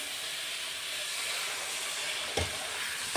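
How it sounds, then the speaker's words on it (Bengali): Water poured into a hot pan of fried bottle gourd gives a sustained loud steaming hiss, with a sharp burst of spatter near the end. No voices. "তো এবার আমি জলটা দিয়ে দিই, ভাজা হয়ে গেছে।"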